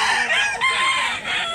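A rooster crows close and loud at a busy rooster market in Mantalungon, Barili, Cebu, one sustained call filling the moment.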